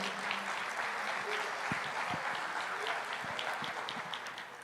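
A church congregation applauds steadily after a sermon, a broad wash of many hands clapping at a moderate distance, with faint voices mixed in.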